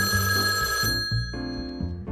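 A telephone bell rings in short, loud electronic trills, about two rings in quick succession with brief gaps, close and without any talk.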